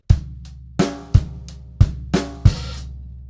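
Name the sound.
drum groove with open hi-hat on the and of 4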